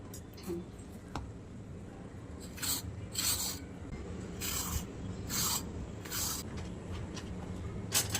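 A knife scrapes the tough ridges off a ridge gourd for chutney in a home kitchen: repeated short rasping strokes come in bursts over a faint steady background, close and moderately loud, with no talk.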